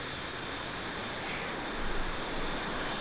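A SpaceX rocket roars at liftoff on a Starlink launch, heard as a steady, dense, broadband rumble that swells slightly near the end, with no voices.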